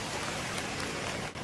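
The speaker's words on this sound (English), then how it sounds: "It suddenly started to rain." Rain starting to fall at a forest campsite in Chechnya, a soft, steady hiss of drops pattering on surfaces, faint and continuous without talk.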